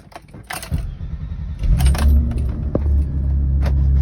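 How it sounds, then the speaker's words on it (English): A 1991 BMW E30 325i being started: keys jangle first, then the engine cranks and catches into a loud, steady idle close by. "Start the car."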